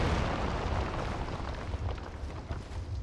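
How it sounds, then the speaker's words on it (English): Breaking pots in Dark Souls 2 give off an explosion-like boom, a loud, rumbling burst that fills the moment and slowly fades into churning debris noise. "Why does it sound like a TNT explosion for the pots?"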